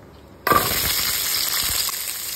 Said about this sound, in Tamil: இப்போ கொஞ்சமாக எண்ணெய் ஊற்றிட்டு சின்ன வெங்காயம்,